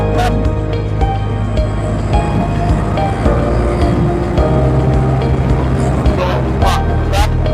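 A loud motorcycle exhaust drones steadily and close by for the whole stretch, as if heard from the saddle while riding the steep Palutungan route in Kuningan.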